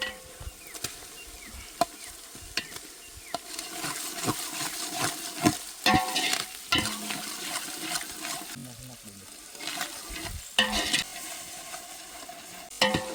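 Crushed garlic, green chilies and ginger sizzle and crackle in a hot pan for a village-style green chickpea curry, with steady frying hiss broken by repeated stirring scrapes and clatters.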